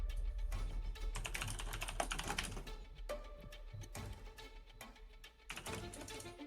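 Rapid clattering of computer keyboard typing fills the clip, loud and close, with dense irregular keystrokes and a few brief pauses, no talk over it.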